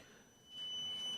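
A quiz show buzzer sounds during a finance quiz round, a steady electronic tone that cuts in partway through and holds strongly to the end, with no talking.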